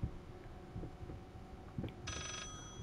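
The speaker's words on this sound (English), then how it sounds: "there's a phone again" Telephone in the horror video game Layers of Fear, with a single electronic ring starting late and ringing steadily to the end over a low rumbling background.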